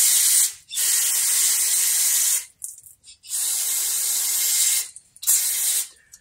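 Loud bursts of aerosol cleaner spraying through the carburetor of a three-wheeler that sat unused for about 15 years, two long blasts and a shorter one separated by brief pauses, close up.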